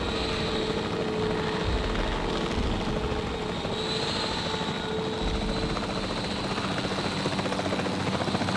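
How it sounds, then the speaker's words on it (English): A capture team helicopter in Jurassic World Evolution 3 thrums with a steady rotor drone and engine whine, continuous and fairly close, with no speech. "The priority needs to be tranquilizing it with the capture team chopper."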